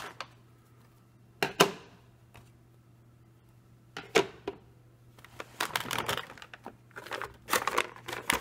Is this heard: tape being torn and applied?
yes